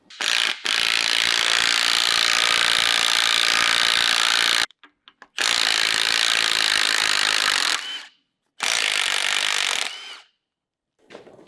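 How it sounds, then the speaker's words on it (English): Axle shafts being pulled from a Sterling 10.5 axle on a school bus build give long, loud scraping, grinding mechanical passes separated by abrupt silent gaps, with no voices. "we're going to pull the axle shafts out"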